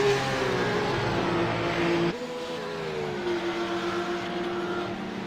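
A Formula race car engine on a track, Wheelbrenner's car passing one of the Formula cars, sounds as a loud, high engine whine that drops in pitch as it passes, followed by further engine drone from other cars nearby.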